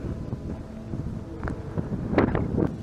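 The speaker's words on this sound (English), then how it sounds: "Hopefully this wind doesn't mess up the audio too bad." Steady wind rushes and buffets the microphone outdoors at night, a continuous low roar with gusts swelling louder toward the end; no one speaks.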